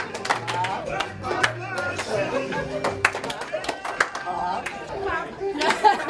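An audience in a group exercise claps, hops and twists together, giving a dense run of sharp claps and thumps with chatter and music-like tones throughout.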